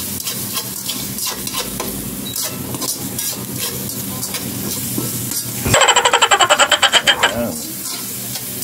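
Onion and ginger sizzle as they are stir-fried in a pan. A steady frying crackle runs under brief talk, then a louder burst of rhythmic stirring and scraping comes in partway through.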